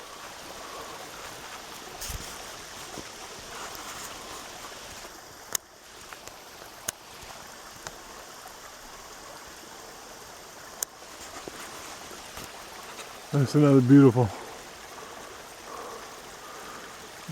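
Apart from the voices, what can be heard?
small waterfall and freshwater runoff in a creek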